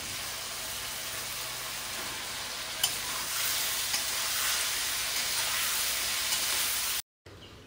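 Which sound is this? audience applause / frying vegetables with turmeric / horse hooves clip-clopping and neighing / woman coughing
frying vegetables with turmeric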